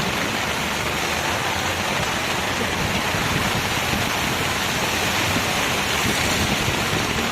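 Heavy rain pours steadily over a waterlogged town, a dense, even roar of hiss and patter that stays constant and fairly loud throughout, with no voices.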